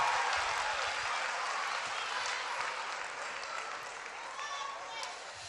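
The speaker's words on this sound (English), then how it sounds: "Give another round of applause to our 3 student leaders from John Marshall High School" An audience at an education announcement event claps loudly and steadily for a few seconds, a dense, even wash of applause that slowly fades slightly toward the end.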